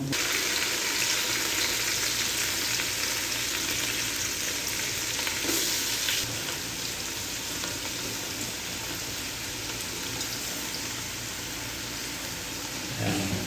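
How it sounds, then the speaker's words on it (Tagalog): Loud, steady sizzling and crackling of garlic and onion sautéing in a hot pan, popping continuously throughout with faint stirring noises. "Pumuputok-putok na siya guys sa pagkakasangkot siya."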